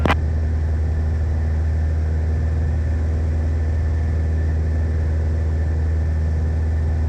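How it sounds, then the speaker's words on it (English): A Grumman Tiger light aircraft's engine drones loud and steady throughout its takeoff roll on the runway, a constant low roar with no voices. "Grumman Tiger on the roll."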